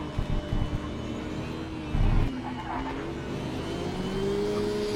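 Racing video game car engine played on a G920 force-feedback wheel, droning steadily and loudly with rising revs, a brief harsh burst near two seconds suggesting a skid, then a rising whine toward the end.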